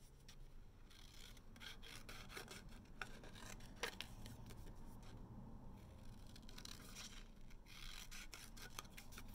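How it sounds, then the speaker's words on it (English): Scissors cut a small sailboat shape out of paper for a collage, giving a quiet, close, steady rasping and snipping that continues throughout with no voices. "We'll cut out this little sailboat here."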